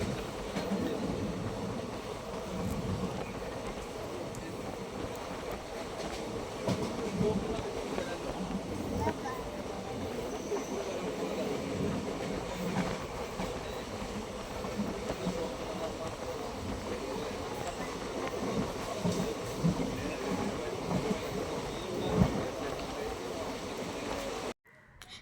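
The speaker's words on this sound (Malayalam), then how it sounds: "അത്യാവശ്യം നല്ല സ്പീഡിൽ തന്നെയാണ് കേട്ടോ നമ്മൾ ട്രെയിൻ ഓടിക്കൊണ്ടിരിക്കുന്നത്" A passenger train running at fairly high speed: a steady, dense rumble with rattling clatter throughout, continuing evenly and cutting off abruptly near the end.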